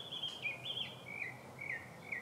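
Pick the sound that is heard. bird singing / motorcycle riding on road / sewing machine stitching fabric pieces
bird singing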